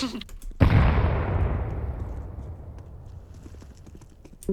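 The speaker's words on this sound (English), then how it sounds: "Throwing a grenade." A grenade in Counter-Strike 2 goes off in a single sharp, loud burst whose echo rolls away and fades over a few seconds, with faint clicks around it.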